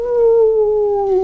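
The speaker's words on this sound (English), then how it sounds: "The puppy sat down on a drifting piece of ice and howled pitifully." A puppy gives a single long, steady, mournful howl, loud and close, holding one pitch for about a second with no other sounds.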